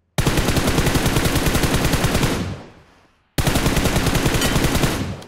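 Automatic gunfire in the video game Fortnite rattles out in two long, loud, rapid bursts, separated by a brief gap of silence.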